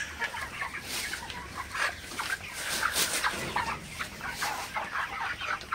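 A flock of 39-day-old broiler chickens, about 3.5 kg each, clucking continuously, many birds overlapping in a busy, steady chatter.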